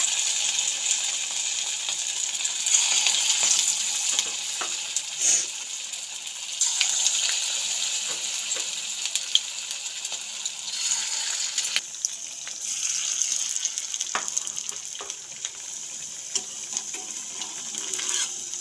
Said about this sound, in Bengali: এই ব্যাচটাও উল্টে পাল্টে পকোড়াগুলো ভেজে নিয়ে আমি ফিরে আসছি